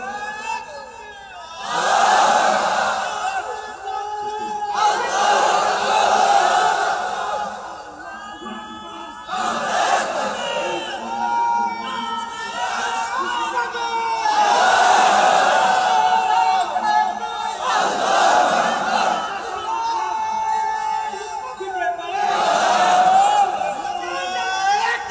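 A large crowd at a Bangla waz gathering loudly chants religious slogans in unison, the voices rising in several repeated surges with short lulls between, forceful and close.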